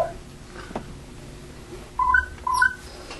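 A radio interrupt chirp comes as two short, bright electronic tone pairs in quick succession over a low hiss, heard during a club meeting recording.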